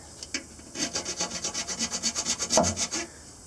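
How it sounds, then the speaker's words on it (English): A hacksaw cuts through an aluminum part on a tractor PTO in quick, regular back-and-forth strokes, close and fairly soft, about a dozen rasping passes with no talking. "Okay, I got a hacksaw."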